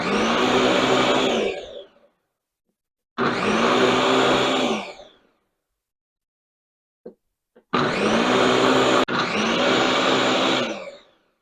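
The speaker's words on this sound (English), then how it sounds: "So this is a blender that can" A blender whirs through a batch of Jamaican sorrel drink in three loud, steady bursts of about two seconds each, separated by silence with a couple of faint clicks, the last burst briefly cut before continuing.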